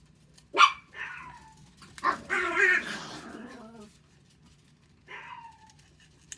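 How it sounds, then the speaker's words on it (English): A dog barks nearby in a few separate bursts: a sharp single bark, then a longer rough run of barking, then one more bark after a pause, over a quiet background. "Mia is one of our special dogs"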